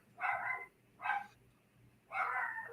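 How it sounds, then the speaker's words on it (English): A dog barks three times in separate bursts, clear and fairly close, with short pauses between the barks and no talking over them. "hope he'll stop barking"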